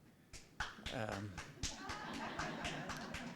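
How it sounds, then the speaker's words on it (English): Audience clapping at a university book launch at Kent State, a burst of scattered hand claps that rises and then carries on as steady applause, with voices mixed in. "I assume that's for a clapping for historians"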